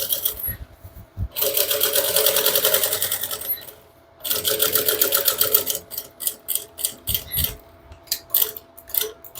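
A sewing machine stitching a bag lining, running in fast, even bursts, then short stop-start stitches and backstitches toward the end, close and clear with no talk.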